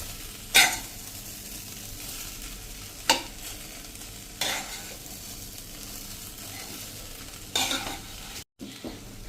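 Vegetable poha with potatoes is stirred in a pan under a low, steady sizzle. Spoon scrapes and knocks against the pan land at irregular intervals, a few sharper than the rest, with a brief drop near the end and no voices.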